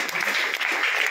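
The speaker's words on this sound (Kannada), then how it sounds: "ವಿಜೇತರೆಲ್ಲ ಚಪ್ಪಾಳೆಯೊಂದಿಗೆ" Applause from a crowd honouring the women who won a tug-of-war contest, a steady dense wash of clapping filling the whole brief moment.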